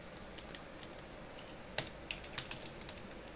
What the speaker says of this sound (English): My keyboard or something is messed up, like, hardcore.